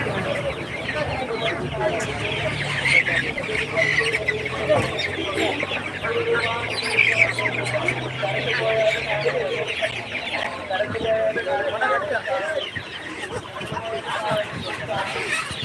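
Chickens cluck and squawk in a busy poultry market, the calls scattered and fairly close, with people talking over them throughout.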